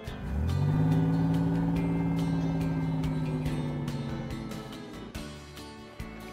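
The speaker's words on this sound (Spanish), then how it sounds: "Parece que tiene un motor muy fuerte." A toy fire truck's strong engine revs up and holds a steady roar for several seconds, loud and close, then fades with a few clicks near the end.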